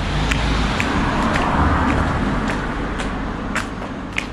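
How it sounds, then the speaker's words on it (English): A car passing on a road in Greece, a broad rumble of engine and tyres with repeated faint clicks over it, heard up close. "Oh, a car."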